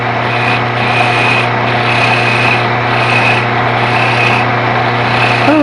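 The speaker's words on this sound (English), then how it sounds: "Now I will switch to my little skew. This part is going to be the acorn. Just a little scraping motion there." A small wood-turning skew scrapes a spinning wooden acorn on a lathe, giving a steady raspy rubbing over the constant motor hum, with a faint rhythmic pulse as the tool works.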